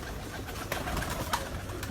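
Breeder pigeons coo softly in a loft, low murmuring calls faint under steady background noise, with no talking.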